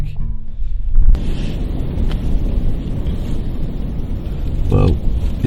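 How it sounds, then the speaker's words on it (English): Strong gusty wind at night beside the water on a pike fishing trip, a loud, continuous rumbling roar buffeting the microphone, with a brief faint rattle near the end. "as you can probably hear, the wind is really getting up now"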